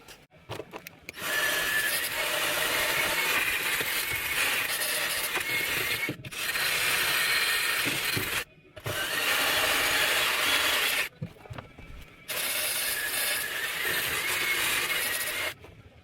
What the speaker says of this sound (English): I'm just going to use like a wire brush, so let's get that going.